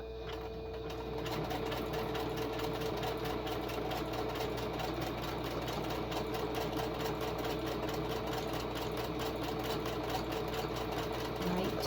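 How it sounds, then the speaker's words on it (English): A sewing machine stitches a fabric pouch in one continuous, steady run of fast mechanical whirring and needle chatter that stays close and constant for the whole stretch, with no talking. "now I will continue sewing and get this sewed up"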